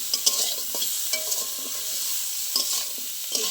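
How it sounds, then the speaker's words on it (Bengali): Boiled bitter gourd pieces frying in a pan with salt and turmeric, a close, steady sizzle broken by repeated clinks and scrapes of a spatula stirring, no voices. "উচ্ছের মধ্যে দিয়ে দেবো পরিমাণ মতো নুন, দেবো হলুদ, লাল লাল করে একটু ভেজে নেব।"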